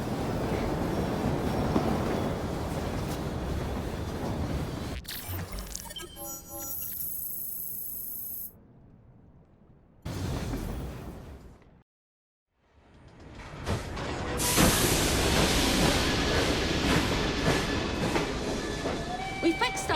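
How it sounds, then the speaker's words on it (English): A train in the video game Assassin's Creed Syndicate rumbles and clatters with wheel noise, loud and close, broken by brief gaps and a sudden cut to near silence before a strong rushing passage returns. "We fixed up the train for you."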